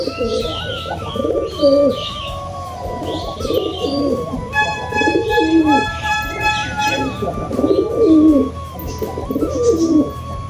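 A pigeon coos in repeated soft, low throaty phrases close by, while a person talks intermittently over it and a few small chirps and a faint tonal beep sound in the background.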